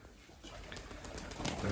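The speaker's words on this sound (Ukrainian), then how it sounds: "Будемо дивитися на чубатих лохматих голубів" Crested shaggy pigeons coo softly and low at close range, a faint murmuring call over quiet background noise that swells slightly toward the end.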